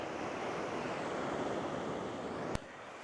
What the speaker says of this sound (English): I think it's a bit of a high tide because the ocean's coming right in.